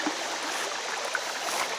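Steady, fairly faint rush of moving water with a small splash or two, as a container of sunfish is tipped out into a deep section of water.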